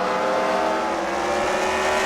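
Race cars roar around the track at The Freedom Factory during a CWRL Fight Night final round, a dense, loud, sustained engine drone with steady harmonics and no gaps.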